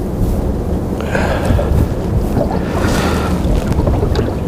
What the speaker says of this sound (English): the bad part is the wind